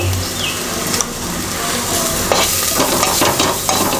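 Chili powder and salt are stirred into mealmaker curry in a hot pan, with steady sizzling and occasional scrapes and knocks of a spoon against the pan.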